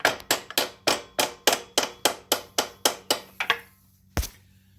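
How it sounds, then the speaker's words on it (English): Hammer tapping the intake inlet on a 2010 Honda Crosstour during alternator replacement: about twelve sharp, close metallic taps in a steady rhythm, then a pause and one final tap. "I'm going to take and tap that inlet with a hammer just to get us a little bit of room in here"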